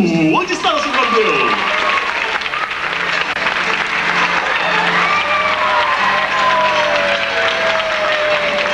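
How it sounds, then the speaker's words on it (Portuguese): Studio audience applauding and cheering for a contestant named Romeu on a 1996 Brazilian Valentine's Day TV variety show, steady dense clapping with whistles and voices mixed in throughout. "palmas pra ele, Romeu!"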